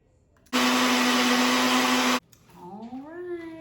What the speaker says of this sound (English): we're gonna go ahead and blend it up.